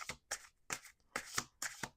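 A deck of cards is shuffled in a quick series of five crisp riffling bursts, close and fairly quiet, with no voices.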